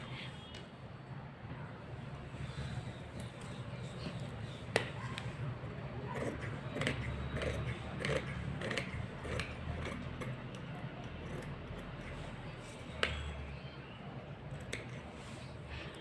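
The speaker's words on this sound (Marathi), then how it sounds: "आता हे पाठीमागचा भाग कट करून घेते" Scissors cut through a paper blouse pattern piece, with repeated soft snips and rustles of paper up close, with faint background noise throughout.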